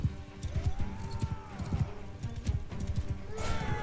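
A horse gallops in Mount & Blade: Bannerlord, with rapid rhythmic hoofbeats thudding close and loud, a drawn-out whinny rising over them, and battle clatter in the background.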